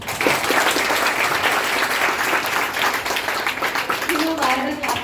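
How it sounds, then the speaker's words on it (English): High school students clap for a guest alumnus after a career guidance talk, dense and fairly close applause that holds steady, with a few voices rising near the end. "clap for him"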